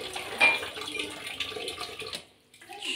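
Cups, spoons and glasses clink and rattle as they are gathered up for the dishwasher, a close cluster of ceramic and metal knocks against a faint watery wash, falling briefly quiet before resuming.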